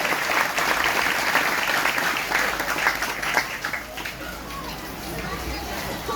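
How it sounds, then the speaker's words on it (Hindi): Crowd applause and clapping fill a church hall steadily during a Sunday service, with a murmur of voices mixed in. "यीशु मसीह की सभी जोर से तालियां बजाएंगे।"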